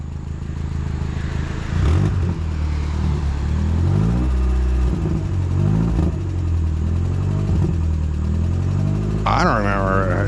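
Volkswagen Jetta engine idling with audible valve tapping, a steady rough mechanical running tone close by with a few small rev changes, people talking briefly near the end.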